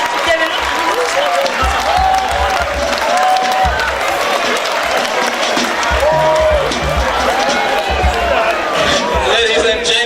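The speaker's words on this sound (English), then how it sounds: "we want to give a kudos to them with a round of applause" A live audience at a student debate event gives a sustained round of applause and cheering, with steady clapping and raised voices filling the whole stretch.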